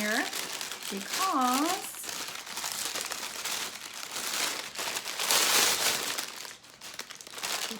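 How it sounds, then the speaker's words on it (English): A plastic snack bag from a travel subscription box crinkles and rustles continuously up close while a person talks over it. "it is a bag of snacks"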